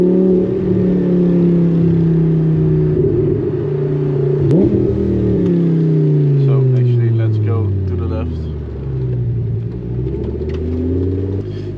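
A Lamborghini Gallardo V10 with straight pipes drives past up close, its loud, deep engine drone rising and falling through gear changes while someone talks over it.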